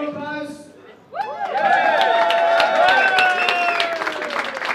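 Crowd at the 2012 Norwegian poker championship in Dublin applauding and cheering a new champion, a loud sustained burst following a short stretch of speech.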